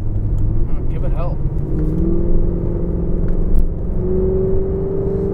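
A Cadillac XLR engine revs and climbs in pitch as it accelerates through a bend, a loud, steady rumble from inside the car with a voice over it.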